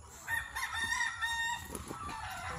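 A rooster crows in a quiet morning yard, its faint drawn-out call carrying from some distance over a low background hiss.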